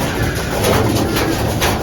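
Pigeons cooing in a cluttered, untidy loft, a loud dense murmur of overlapping coos that carries on steadily without pause.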